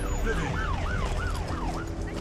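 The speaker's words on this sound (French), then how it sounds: "Elle arrive, l'ambulance!" An ambulance siren wails in repeating rising and falling sweeps, loud and close, over a constant rumble of traffic.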